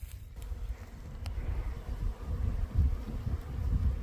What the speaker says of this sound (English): it's actually a swarm of bees, I think